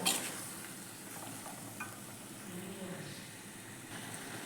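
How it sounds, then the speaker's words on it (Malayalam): Chopped bitter gourd stirred into masala in a pan, a steady low sizzle and hiss with soft scraping throughout, fairly faint and with no talk. "നമുക്ക് ചെറുതായി മുറിച്ച് വെച്ച കയ്പൊക്കെ കൂടി ചേർത്ത് കൊടുക്കാം അപ്പോൾ ഇതെല്ലാം ഒന്ന് മിക്സ് ചെയ്തെടുക്കാം"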